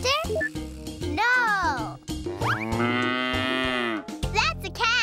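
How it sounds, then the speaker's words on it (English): A cow moos in a children's cartoon, a long drawn-out tonal call with bending pitch, heard loud and close among other cartoon sound effects and voices. "That's a cow."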